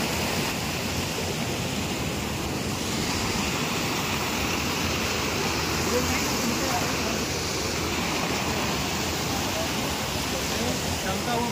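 Jogini waterfall near Manali sends water rushing down in a loud, steady broadband roar that holds unbroken and close throughout, with no other sound standing out above it.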